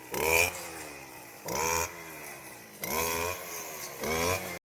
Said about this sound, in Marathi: पेट्रोलवरती चालते ही मशीन